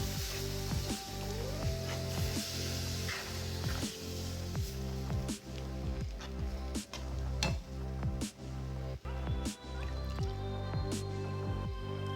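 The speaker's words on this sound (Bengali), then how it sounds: "এইবার অল্প অল্প করে কাঁচা দুধ দিয়ে দিতে হবে।" Raw milk poured a little at a time into a pan of white sauce for pasta, wet dripping and bubbling splashes in an irregular patter against a steady sizzle, close up, with no talk.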